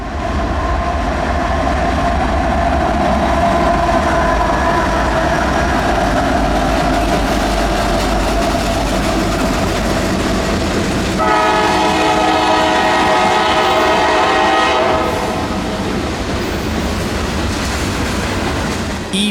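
A diesel freight train led by Norfolk Southern locomotive 1067 rumbles past in coastal Carolina with clattering wagons, its horn sounding loudly in long sustained blasts partway through, steady and close.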